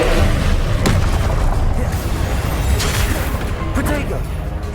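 Incendio fire spell cast in the video game Hogwarts Legacy, a dense, loud burst of roaring, crackling flame with sharp impacts that rises and fades across several seconds.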